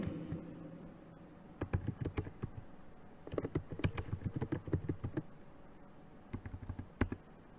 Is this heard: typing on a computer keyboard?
yes